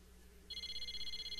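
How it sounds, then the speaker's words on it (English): A cell phone in the Persona 4 Arena video game starts ringing with a steady electronic beeping tone that kicks in partway through and holds, fairly clear over a low hum. "I realized that the beeping wasn't my alarm. It was my cell phone."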